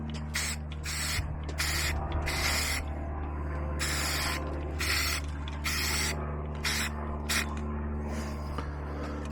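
Camaro interior parts are sprayed with Rust-Oleum satin black from an aerosol can, making about eight near, loud hissing bursts of roughly half a second to a second each, separated by short pauses over a steady low hum.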